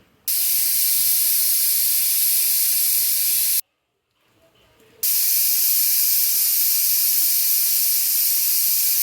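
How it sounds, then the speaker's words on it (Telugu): A pressure cooker holding soya pulav with rice and soya chunks vents steam in a loud, steady hiss. The hiss cuts out briefly, then resumes just as strong, with no voices. "మూత పెట్టి 2 విజిల్స్ వచ్చే వరకు వేచి ఉండండి."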